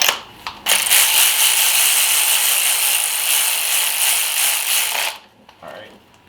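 A hand ratchet cranks steadily on a Chevy Suburban engine bolt near the catalytic converter, a loud continuous rasping whir lasting about four seconds before stopping, with a few faint clicks around it.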